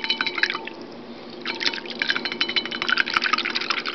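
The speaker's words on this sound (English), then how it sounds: "Give it a stir. Just a whisk I keep around just for the silver" A whisk stirs a container of freshly made colloidal silver water, giving steady liquid swishing and dripping that comes in two bursts, close and moderately loud, with no talking.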